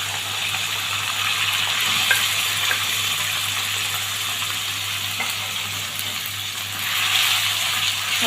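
Chicken pieces frying in about two large spoonfuls of hot oil in a pan for fajitas, giving a loud continuous sizzle and crackle that holds steady throughout with no talk.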